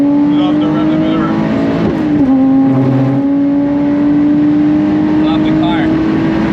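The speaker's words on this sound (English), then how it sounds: "Love the rev limiter." A Lotus Exige 380 engine on the Nürburgring drones loudly and steadily, holding at the rev limiter with a brief dip and return, while people talk over it.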